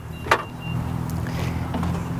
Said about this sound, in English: We'll open the trunk.